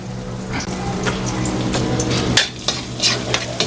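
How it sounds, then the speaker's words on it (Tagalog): Garlic, a whole head, sizzles in coconut oil in a pan, a steady close frying crackle under occasional scrapes and clinks of a utensil stirring. "Igisa na natin tong bawang."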